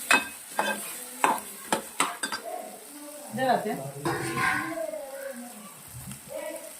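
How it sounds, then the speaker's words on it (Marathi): Masala paste for a curry frying in a pan while being stirred, with close spoon scrapes and clinks against the metal over a continuous sizzle. "एवढे पेस काढलेत मी रश्श्यासाठी ते टाकून घेते त्याच्यात"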